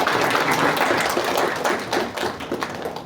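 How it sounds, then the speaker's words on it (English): Audience applause at a fireside chat session, steady clapping from a crowd filling the whole stretch at an even, sustained level. "So please give him a round of applause."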